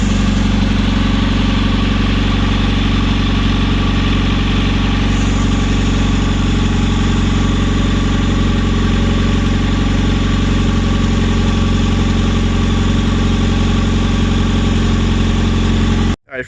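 A turbocharged D16 engine swapped into a Suzuki Vitara runs steadily with a loud, continuous droning idle and a dense low rumble. It stops abruptly at the very end.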